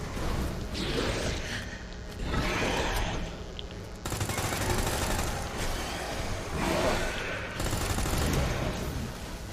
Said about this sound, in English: Submachine gun goes quick, that's for sure.